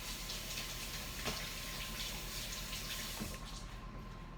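A kitchen faucet runs steadily while a spatula is rinsed under it, a continuous close splashing hiss with a couple of brief clatters, the flow easing off near the end.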